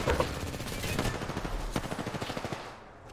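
Rapid automatic gunfire from teammates in a ranked Arenas video game match, a loud, evenly spaced burst of shots that rattles on for about two seconds before trailing off.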